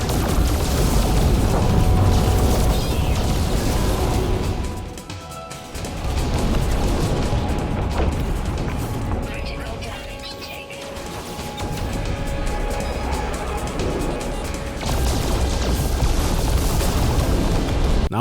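Space combat in No Man's Sky, with continuous booming blasts and explosions rumbling over steady weapon fire, loud and dense, easing briefly twice before swelling again.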